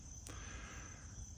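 Crickets chirp at sunset on a front porch, a steady, faint, high-pitched trill that runs unbroken through the whole stretch with no talking.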